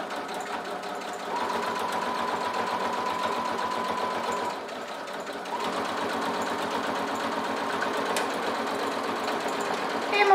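A sewing machine topstitches a fabric vanity case with a lengthened stitch, running in steady, close bursts with a short pause midway and a final backtack at the end.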